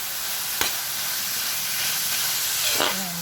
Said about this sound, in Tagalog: Gisahin nyo ng maigi.